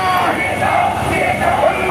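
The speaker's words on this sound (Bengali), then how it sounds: "অডিয়েন্সের সবাই আল্লাহু আকবার ধ্বনি দিয়ে সোহরাওয়ার্দী উদ্যানের এই ময়দানকে আমরা কাঁপাতে রাজি আছি না নাই?" A large rally crowd at Suhrawardy Udyan chants Allahu Akbar in unison, a loud, sustained mass of voices echoing across the open ground.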